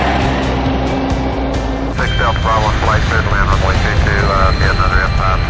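Airplane engine roaring steadily as it takes off, a loud continuous rumble with whining tones, and a voice speaking over it for the second half.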